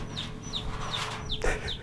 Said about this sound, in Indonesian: Sorry kalau ada suara anak ayam ya